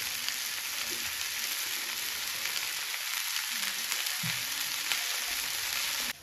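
Boneless fish pieces sizzle steadily in hot oil in a pan, a dense continuous frying hiss that stays even and close throughout, with no voices.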